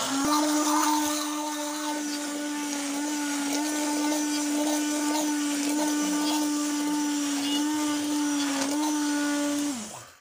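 Steady electric mixer motor whirring as it beats cake batter with milk just added, a constant humming drone held for about ten seconds before cutting off at the end.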